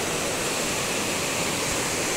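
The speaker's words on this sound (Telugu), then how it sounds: "నీళ్ళు చూడండి ఇట్లా నీళ్ళు వస్తాయనే వాళ్ళు పెద్ద బ్రిడ్జి కడుతున్నారు" A river in flood runs fast past a large bridge under construction, a constant, rushing roar of water that stays even and close, with no voices.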